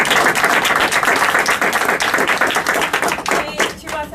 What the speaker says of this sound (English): I want you to give an applause to her,